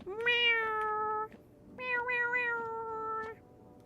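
Two long, clear cat meows from a video game character, each drawn out for over a second, close and loud with a short pause between them and no talk over them.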